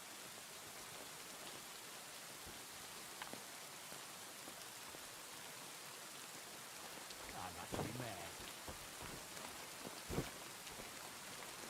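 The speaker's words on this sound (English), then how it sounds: "This is rain" Steady rainfall in the video game Kingdom Come: Deliverance II, a constant hiss of rain with a few sharper drops, and someone speaks briefly over it.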